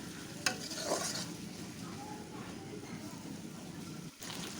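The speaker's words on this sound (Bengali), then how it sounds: "এখন মুরগির মাংসগুলো দিয়ে দিলাম, ভালো করে নেড়ে নিব" Chicken pieces are stirred into spice masala in a hot pan for a chicken curry, giving a low sizzle with scraping stirring sounds and a brief clatter, fairly quiet and close.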